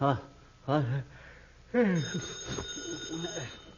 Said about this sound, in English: McGee, the telephone is ringing.